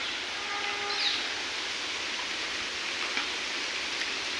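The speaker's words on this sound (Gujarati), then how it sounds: "વરસાદ ચાલુ થઈ ગયો છે અને જબરજસ્ત વરસાદ પડવા ભાઈ ગયો છે" A steady hiss of heavy rain pours down over a village forest area, broad and continuous, with a faint bird chirp early on.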